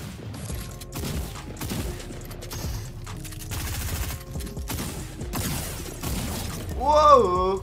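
Rapid gunfire in Fortnite, with dense bursts of shots and breaking impacts crowding the whole stretch and a player talking over the fight.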